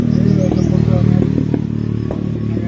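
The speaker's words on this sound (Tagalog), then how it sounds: "Gamay na motor bugat." A small motorcycle being ridden gives a steady, close low engine drone with rattling clatter over it and a faint voice in the background.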